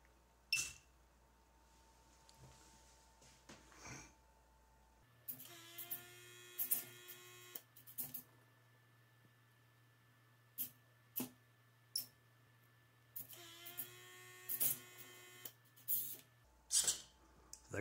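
A checkers-playing robot arm whirs in bursts of servo motor noise as it moves to hop a piece, with short mechanical clicks and clacks between the motions and a steady background hum.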